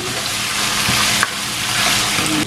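Soaked and rinsed dried masi fish sautéing in a hot oiled pan, a steady close sizzle and crackle running throughout with a few faint stirring knocks.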